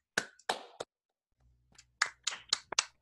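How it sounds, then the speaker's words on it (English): A few scattered handclaps from a small audience at a tech meetup's lightning talks: several sharp, close claps, a brief pause, then a short flurry of individual claps. "Everybody hands a round of applause,"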